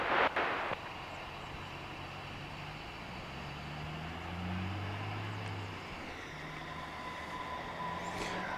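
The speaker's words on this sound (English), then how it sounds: "American Flight 1883, another Airbus A319, this one coming in from Jackson, Mississippi." An Airbus A319 airliner arriving at DFW Airport at night, a steady broad jet roar with low rumbling drone that swells slightly mid-clip, heard from a distance without talk.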